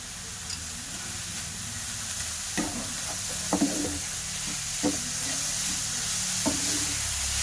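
Carrot mixture with sugar being stirred in a pan for carrot-filled puli pitha, a soft steady sizzle running throughout with a few brief scraping clicks of the spoon, close and alone with no talking.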